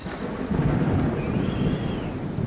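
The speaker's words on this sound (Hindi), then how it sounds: "तभी अचानक बहुत जोर से बिजली कड़की।" Heavy rain pours steadily while a deep roll of thunder rumbles loudly through the downpour, with no talking.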